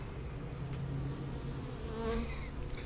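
Honey bees mass at a Flow Hive, producing a dense, close, continuous buzzing drone with individual wingbeats flitting past, and no talking over it.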